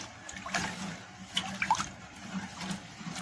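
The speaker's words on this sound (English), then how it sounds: "Nitrosol now, solution plus water added properly." Water being poured into a nitrosol and caustic solution for liquid soap, a soft trickling pour with a few brief splashes, quiet and close, no talking.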